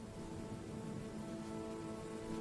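Steady, heavy rain pours down in a dense, continuous hiss with no pauses, alone and evenly loud throughout.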